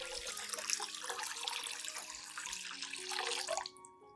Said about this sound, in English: Add 1 liter of clean room temperature water to dilute the solution.